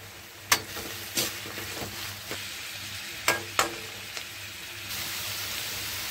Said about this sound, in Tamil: தேவையான அளவுக்கு எண்ணெய் ஊற்றி கடுகு போட்டு பொரிஞ்சிட்டு இருக்குது